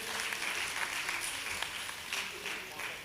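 An audience at a cultural stage event in Palakkad applauds, a moderate, fairly distant wash of clapping that fills the whole stretch.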